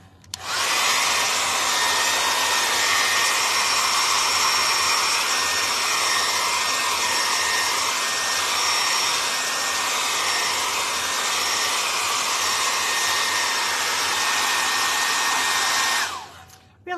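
A hair dryer blows steadily over acrylic paint on a canvas, a loud continuous whoosh with a motor whine that wavers slightly as it is moved, running for about fifteen seconds before cutting off.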